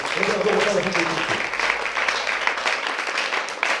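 A church congregation applauds and cheers in praise of the Lord. The clapping is a dense, continuous roar mixed with raised voices throughout.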